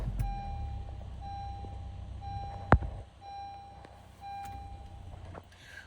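A 2013 Honda Accord with a 4-cylinder engine and about 177,000 miles starts from inside the cabin. Soft dashboard chimes are followed by a short sharp crank as the engine catches, then a low, quiet idle with more chimes.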